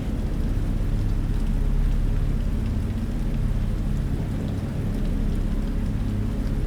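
Steady heavy rain falls without pause, a dense close wash of drops on surfaces with a low rumbling undertone like distant thunder, no voices.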